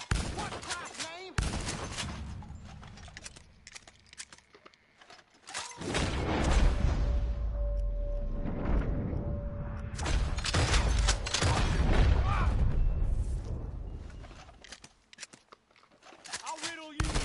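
In Red Dead Redemption 2, gunshots crack sharply in a heavy shootout, with scattered single shots and then a thick stretch of rapid fire and booming reports, loud and close.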